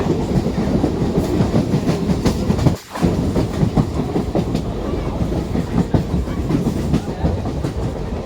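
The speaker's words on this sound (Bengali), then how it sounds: "এই ট্রেনটা দীঘা লোকাল হয়ে দীঘার দিকে রওনা দেয়" A Digha-bound local train runs on rails with loud, continuous rumble and rhythmic clickety-clack of the wheels heard from inside the carriage, with a brief dip partway through.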